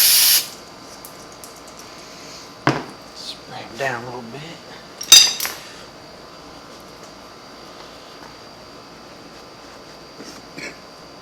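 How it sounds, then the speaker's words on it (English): Short hissing spray bursts of cleaner on Yamaha Big Bear ATV rear axle bearings come in quick succession, with a faint clink and quiet background between them. "Spray them down a little bit."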